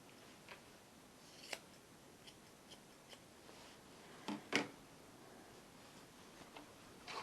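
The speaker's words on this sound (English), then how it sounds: "Scissors are being sharpened" At a dog grooming salon, scissors being sharpened give off sparse, faint metallic snips and clicks, a few isolated strokes separated by quiet gaps, with a couple of slightly stronger strokes midway.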